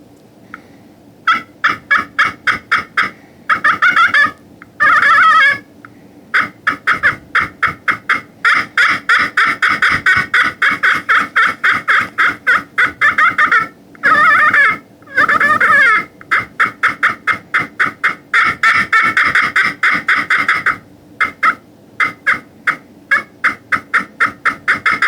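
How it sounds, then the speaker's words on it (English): Aluminum-faced pot turkey call, a Phelps Get 'em Close, worked by hand in rapid series of close, loud yelps and clucks, bursts broken by short pauses across the whole stretch with no talking. "Now with my pot call, this is the Get 'em Close Phelps call. The aluminum faced call, pot call here."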